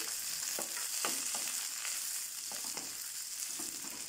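Onion and curry leaves frying in a pan for a traditional goat-leg soup, a steady loud hiss of sizzling oil with faint scraping stirs throughout.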